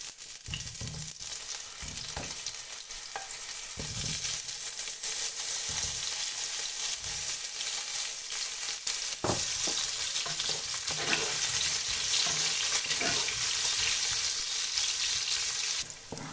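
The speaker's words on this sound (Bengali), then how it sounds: "এরপর ওই তেলেই পটল ভেজে নিচ্ছি" Pieces of pointed gourd sizzle steadily in hot oil left from frying potato and carrot, with scraping stirs and clatter breaking through the continuous hiss, growing slightly louder toward the end.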